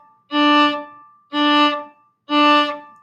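Three separate staccato notes on a bowed string instrument, the same pitch each time, with the bow stopped between them so short silences fall in an even rhythm. The notes are close and clear, and no one speaks.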